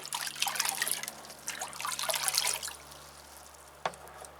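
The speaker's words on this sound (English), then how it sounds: "Give it a stir." Fertilizer is stirred into a container of water, giving soft swirling and splashing for a few seconds, then a single small drip or tap after a pause; quiet and close.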